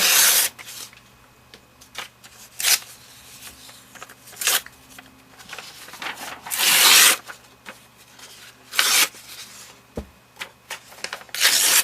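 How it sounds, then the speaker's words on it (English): Old book-text paper is torn by hand, its straight edges pulled off in a series of sharp, close rips separated by short pauses. "I'm tearing off the straight edges"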